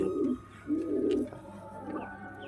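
A pair of newly bought pigeons, one of them white, coo softly in a few close, throaty rolling bursts separated by brief pauses.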